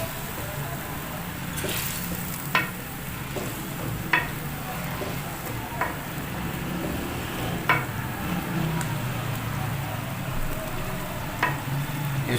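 Chicken tikka pieces sizzle in a pan on low heat, a steady frying hiss broken by several sharp clinks and scrapes as a utensil stirs them.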